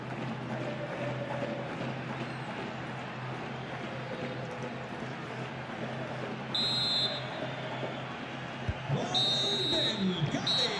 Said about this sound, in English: And the whistle is sounded for half-time in this game.